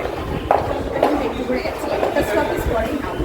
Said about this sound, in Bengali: তো আমাদের মেট্রো চলে এসেছে